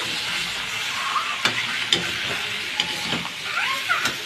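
Chana dal fry sizzling in a pan, with a steady frying hiss and a few sharp scraping clicks from a spoon being stirred through it at close range.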